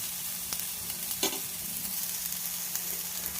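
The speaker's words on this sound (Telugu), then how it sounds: "ఇలా ఉల్లిపాయలు పచ్చిమిరపాయలు కొత్తిమీర సన్నగా తరిగి ఒక రెండు నిమిషాలు వేయించుకోవాలి" Finely chopped onions, green chilies and coriander frying in a pan, with a soft steady sizzle and occasional faint stirring scrapes, heard up close and without talk.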